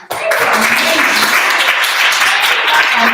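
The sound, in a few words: audience applause for previous speakers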